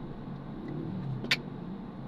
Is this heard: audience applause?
no